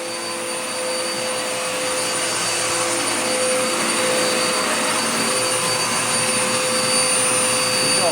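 Dirt Devil Power Max vacuum cleaner running indoors, a steady loud whine with a high-pitched tone that swells slightly as the machine settles into full suction, heard on its own without any voices.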